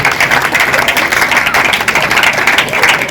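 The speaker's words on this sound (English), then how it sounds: "I think we need to give the mayor a round of applause there." Loud, dense audience applause for a city mayor at a school reading-quiz launch, many people clapping close and continuously with no pause.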